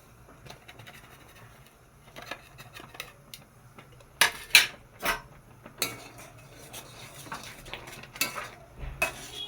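Rice flour is stirred into milk in a pan, with a utensil scraping and knocking against the metal in irregular bursts, some sharper clinks among quieter rustling stirs, fairly close with no talking.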